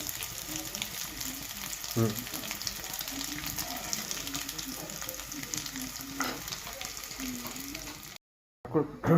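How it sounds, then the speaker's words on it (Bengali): Grated coconut frying in a pan for a Bengali home dish, a steady close sizzle with occasional stirring scrapes running throughout, a brief drop to silence near the end. "নারকেলগুলো ভাজা হচ্ছে,"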